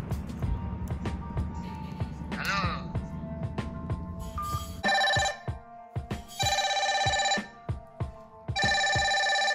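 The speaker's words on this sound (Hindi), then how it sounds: "तो ये है इसका कॉलर रिंगटोन और ये बहुत ही लाउड है" A loud, repeating incoming-call ringtone from a Fire-Boltt Phoenix Ultra smartwatch with a metal strap, in bursts with short pauses, preceded by rapid tapping and other noise.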